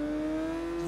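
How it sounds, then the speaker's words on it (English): A Yamaha racing motorcycle in Tourist Trophy drones with a steady, close engine tone for a brief moment as it slows into second gear for a corner. "slowing down into second gear for this corner"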